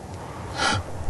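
A single short, breathy sneeze bursts out once, fairly quiet, with no talking around it.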